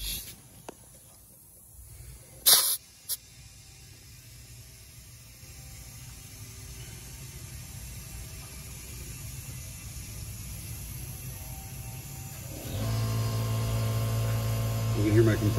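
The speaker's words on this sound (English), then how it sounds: "You can hear my compressor come on." An air compressor kicks on near the end and runs with a steady low drone while pumping up a car tire during an at-home patch of a nail puncture. Quiet shop room tone and a couple of brief clicks come before it.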